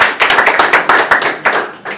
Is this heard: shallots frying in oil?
no